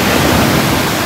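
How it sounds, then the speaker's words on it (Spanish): Ocean waves crashing on rocks at a coastal jumping spot, a loud, dense roar of broken water filling the short moment with no voices. "¡Más tú, qué olas!"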